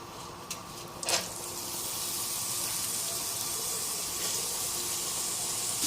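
Sliced onions drop into half a cup of hot oil with cardamom and cloves for chicken korma, a short splash followed by a steady, close, hissing sizzle that continues evenly, with no talking.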